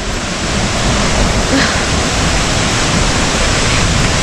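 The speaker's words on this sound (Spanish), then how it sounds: "ahí se ve el salto, el río" Steady, loud broadband rush of a waterfall and river in Huilo Huilo reserve, Chile, filling the whole stretch evenly without pause or voices.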